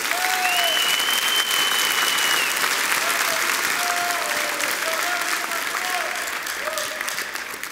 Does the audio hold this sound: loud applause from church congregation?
yes